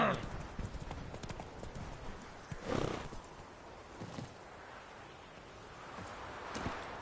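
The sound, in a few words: horse Roach's hooves clip-clopping, from a video game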